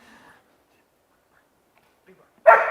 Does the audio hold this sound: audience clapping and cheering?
no